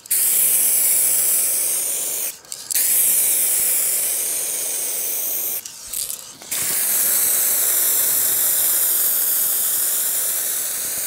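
A spray can hisses steadily as paint goes onto the bonnet of a Honda Civic Ferio, three long close bursts separated by two brief pauses with no talking.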